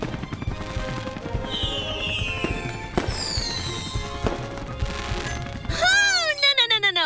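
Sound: fireworks exploding

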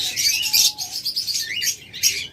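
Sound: budgerigars chirping, blue opaline pair

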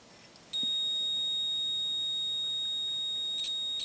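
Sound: breaker points tester beeping during engine timing

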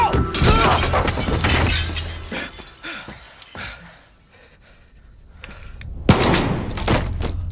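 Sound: gunshot and glass shattering in Far Cry 6 video game

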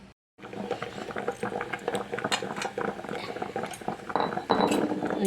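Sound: prawn dish boiling in a pot on a low gas flame

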